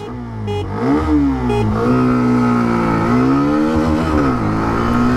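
A 125cc motorcycle, a Honda CB125 Hornet or Hero Xtreme 125R, accelerates at full throttle from first gear, its close, loud engine note climbing in pitch, dipping briefly at shifts and rising again.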